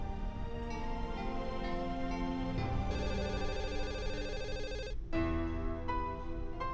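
A telephone rings in an Indian drama scene, with a melodic electronic ringtone repeating its pattern continuously over background music, no speech.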